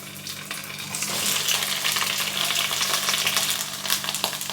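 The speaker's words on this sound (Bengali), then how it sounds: "তেলটা গরম হয়ে গেছে এবার ঢ্যাঁড়সগুলো দিয়ে দিচ্ছি ভেজে নেব" Okra frying in hot mustard oil in a pan gives a steady, close sizzle with crackling bursts that swell slightly after the first second and hold without talk.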